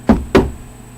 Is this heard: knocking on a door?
yes